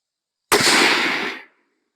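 A single loud, close rifle shot from a Winchester XPR with a synthetic stock, fired from the prone position outdoors, a sharp crack followed by a roughly one-second echoing tail that fades out.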